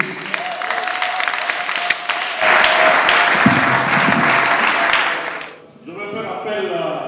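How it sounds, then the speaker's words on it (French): Church congregation applauding and cheering for Jesus, a dense, loud wash of clapping that swells midway, then drops off sharply near the end, leaving a quieter murmur of voices. "on acclame pour Jésus"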